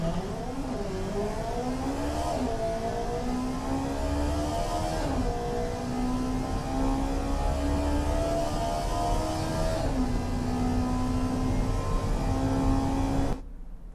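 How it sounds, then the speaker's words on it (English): In the racing game Automation, a naturally aspirated 1-liter, 140-horsepower car engine accelerates hard down a quarter mile, its steady drone climbing in pitch through several gear changes for about thirteen seconds before cutting off abruptly. "It will reach 160 kilometers an hour over the quarter mile from a 1-liter engine, naturally aspirated."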